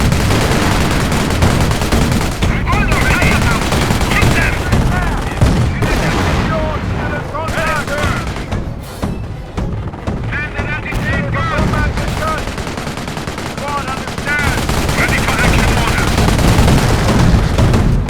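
Machine gun fire from a World War II Company of Heroes battle rattles in dense, rapid bursts almost without pause, loud and close, with heavier booms and battlefield noise beneath and voices speaking at times.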